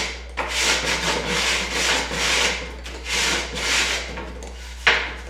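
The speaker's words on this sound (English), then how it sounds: "I gotta do a little bit of rasping on this real quick" Rhythmic rasping of a hand rasp smoothing a cut drywall edge, about eight back-and-forth gritty strokes in a steady pulse, close and fairly loud, ending with a sharp scrape.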